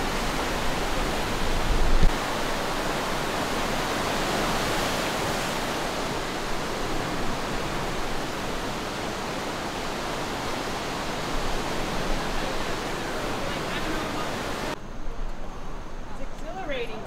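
Rapids on a river rush in a steady, loud broadband roar that stays constant throughout, with a shift in tone near the end, and no voices.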